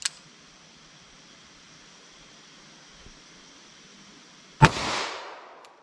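Two gunshots come from a 4-inch 10mm Auto revolver firing Federal Power-Shok ammunition: one sharp crack at the very start and a louder, close blast later with a ringing decay, separated by quiet background hiss.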